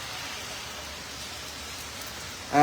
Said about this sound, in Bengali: এখন কিছুটা কমে আসতেছে বৃষ্টি।